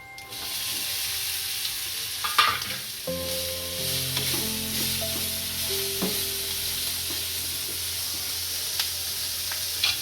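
Green chillies are stirred into hot spiced oil for an instant Gujarati pickle. They give a steady, loud sizzle with scraping and clinks from the spoon against the pan. No one speaks.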